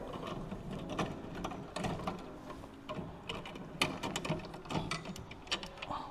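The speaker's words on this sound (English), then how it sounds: "Just use the drum key and go ahead and loosen those all the way out." Snare drum tension rods being loosened with a drum key on a high-tension snare, producing a close series of small metallic ticks and ratcheting clicks at an uneven pace.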